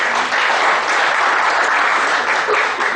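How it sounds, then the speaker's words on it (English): Seminar audience applauding at the close of a professional session, a dense, sustained clapping from a crowd that holds steady and loud throughout. "Big round of applause."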